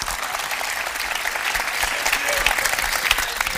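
A Moroccan television studio audience at a 2M anniversary celebration applauds steadily, a dense, even wash of clapping that holds at full loudness throughout.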